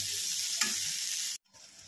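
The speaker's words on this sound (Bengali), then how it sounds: "আমি বেগুনটা একটু ভেজে নিচ্ছি" Eggplant pieces fry in a pan with a loud, even sizzle and one brief stir, then the sound cuts off abruptly near the end.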